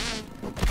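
A mosquito buzzes in the survival video game Grounded, a close, continuous insect whine filling the short moment with no talk over it.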